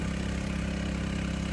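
A small houseboat engine runs steadily at about half throttle, a continuous mid-low drone with a pulsing low thrum, loud and close, with no change in pitch.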